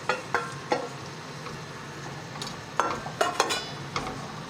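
Onions frying in butter for a Spanish omelette, a soft steady sizzle broken by several sharp clinks and scrapes of a utensil against the pan.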